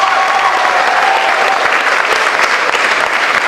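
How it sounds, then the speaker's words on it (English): A charity variety show audience gives a big round of applause, a steady, dense wash of clapping from many hands that holds at an even, loud level throughout. "Give yourselves a big round of applause."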